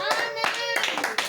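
A church congregation claps together in a brief lively burst of several sharp hand claps, with a voice talking over it.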